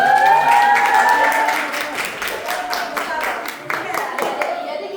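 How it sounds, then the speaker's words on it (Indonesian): University students clap together during a guest lecture in Banjarmasin, with brisk, sharp claps that start strong and gradually thin out, while voices talk over them. "tepuk tangan untuk Kak Naila."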